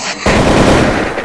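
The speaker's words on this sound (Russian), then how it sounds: "Двойной выстрел" A rapid burst of automatic gunfire from an online shooter game fires loud and close, a continuous stream of shots lasting about a second.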